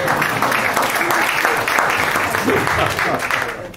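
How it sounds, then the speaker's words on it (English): An audience applauds at a local history talk about King Edward Park in Newcastle, with steady, dense clapping from many hands filling the room for the whole stretch. "A round of applause."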